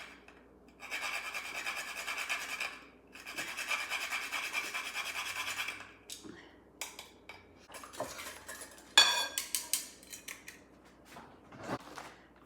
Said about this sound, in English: we do want grated nutmeg, and how much? Until your fingers get tired.